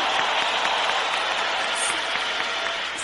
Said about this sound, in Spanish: please give a big warm hand to my dad who never ever give up